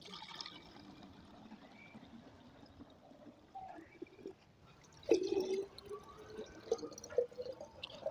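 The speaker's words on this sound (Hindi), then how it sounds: "नीम ऑयल डालने के बाद अब इसमें पानी डाल देंगे दोस्तों।" Water being poured into a spray tank already holding neem oil, a faint trickle and splash against low background noise, growing a little louder and more gurgling toward the end.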